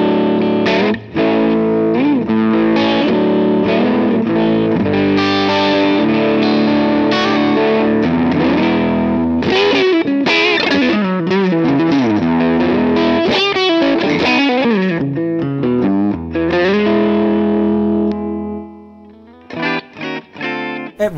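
Electric guitar through a Line 6 Helix amp modeller, a loud distorted tone with effects, played in busy riffs and sustained chords that stop briefly near the end before a few final stabs.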